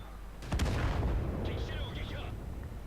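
An M44 self-propelled artillery shot in a tank video game, a single heavy boom followed by a low rolling rumble. Light game sounds and a faint voice continue underneath.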